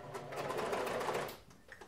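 A sewing machine top-stitches a sweatshirt at a long stitch length, one short steady whirring run that swells and then slows to a stop, close and fairly quiet.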